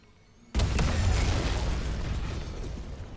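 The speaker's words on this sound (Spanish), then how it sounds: "Creo que antes era una explosión más fuerte, no recuerdo." A deep explosion in the sci-fi horror game Dead Space Remake bursts suddenly after a quiet moment, then a loud rumbling roar lingers and slowly decays.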